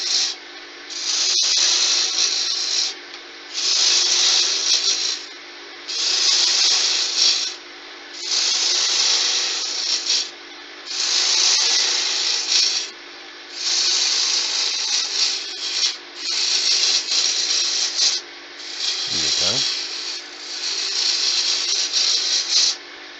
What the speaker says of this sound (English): This is what I love about using a roughing gouge. You can really take some stuff off fast.